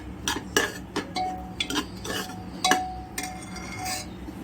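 Garam masala is stirred into veg pulao in a pot, giving a quick run of metallic spoon scrapes and clinks against the pot at close range.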